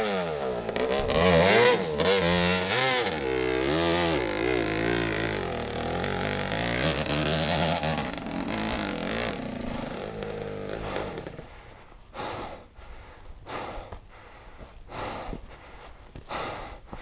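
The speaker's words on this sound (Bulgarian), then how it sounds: "Да видиш кой ти изкара два мотора." Two motorcycle engines revving loudly up close, rising and falling pitch with strong rumble, then shifting to a rougher, choppy idle with sputtering bursts toward the end.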